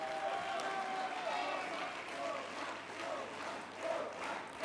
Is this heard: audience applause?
yes